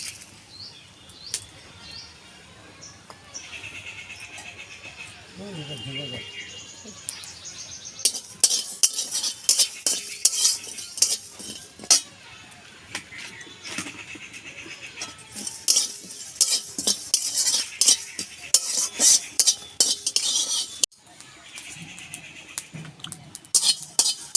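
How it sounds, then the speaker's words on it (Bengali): Dry scraping and clinking in a dry pan as spices for orange chutney are tossed and roasted, with bursts of rattling and scraping that grow busier partway through; no talking. "অল্প এটা আমি শুকনো খোলায় ভেজে নেব"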